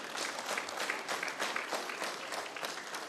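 An audience at a ministerial press briefing in Abuja claps in a dense, steady burst of applause that holds moderately loud and fairly close for the whole stretch, with no voices over it.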